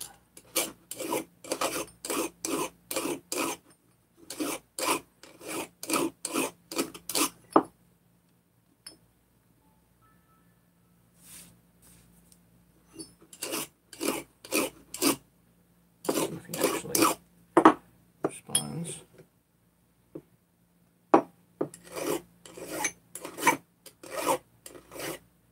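A file rasps in quick bursts of back-and-forth strokes, taking burrs off metal crank tool kit parts, with clusters of strokes separated by short pauses and a few light knocks in between.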